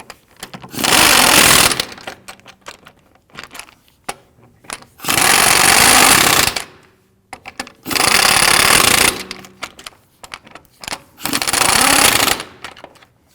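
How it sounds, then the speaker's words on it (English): Lug nuts are run down on a rear wheel of a 2013-2019 Ford Interceptor Utility with a loud, rattling power-tool burst, heard four times, each about a second and a half long, with quiet gaps between. "You want to get and torque down the lug nuts to 110 foot-pounds."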